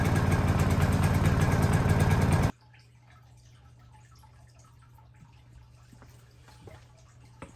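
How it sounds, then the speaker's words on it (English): Honda EU2200i inverter generator droning loud and close for a couple of seconds, then abruptly dropping to a faint, steady low hum in the distance with light scattered clicks. "So the generator is pretty quiet, right?"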